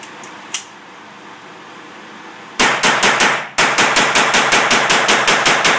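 An AR-22 rifle fires a quick string of semi-automatic shots outdoors, first a cluster of four sharp cracks, then after a short pause about ten more evenly spaced loud reports, with no talking.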